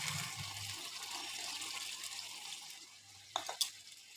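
Water pours into a pan of pointed gourd (potol) curry cooking in mustard and yogurt masala, a soft steady rushing trickle under low kitchen hum, ending in a few small splashy clatters.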